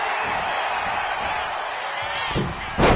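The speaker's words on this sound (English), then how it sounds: "And Femi is channeling the energy of this crowd." Arena crowd noise from the WWE 2K25 wrestling video game, a dense continuous roar that swells into a louder burst at the end, with impact thuds near the close.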